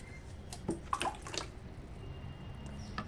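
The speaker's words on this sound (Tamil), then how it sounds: "இப்போ தண்ணி தெளிச்சு விட்டாச்சு" Soft water sprinkling and dripping onto soil planted with fenugreek, a few brief splashes over a quiet background hiss, no talking.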